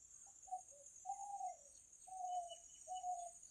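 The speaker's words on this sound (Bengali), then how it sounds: "ঘুঘুর ডাক মন কেড়ে নেয়।" A dove coos nearby in late afternoon in a slow series of soft, low notes, each call drawn out, with insects buzzing faintly in the background.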